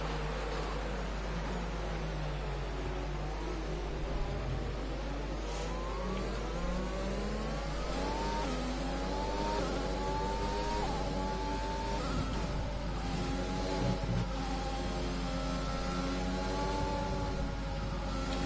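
Several racing cars in the F1 2020 video game rev hard at the race start at the Italian Grand Prix, a dense roar of rising and shifting engine whines layered over each other, loud and continuous.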